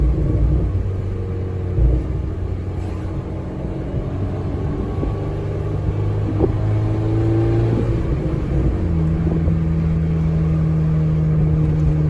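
A big-turbo Volkswagen GTI driving and accelerating, heard from inside as a steady low engine rumble with rising revs and gear changes and no voices.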